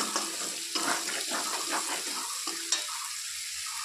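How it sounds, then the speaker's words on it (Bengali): Spice paste with chili powder fries in a pan for a potato and eggplant curry, giving a close, continuous sizzle broken by scraping stirring strokes. "মশলাটাকে ভালো করে একটু ভেজে নেব।"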